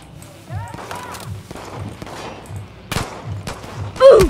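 Gunfire in the shooter Far Cry New Dawn: several sharp shots scattered through the stretch, one louder burst near the end, over steady rhythmic thudding and game ambience, with brief voices mixed in.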